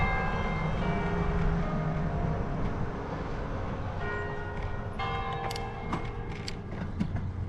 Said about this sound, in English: we're about to hear the bells because it was 7:30 on a Sunday